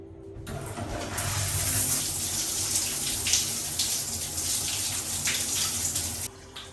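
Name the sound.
shower water running in a hotel shower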